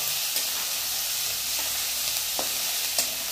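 Bitter gourd sizzles in hot oil with a mustard-cumin tempering, ginger, garlic and chilli, a continuous close, bright frying hiss with a few sharp pops.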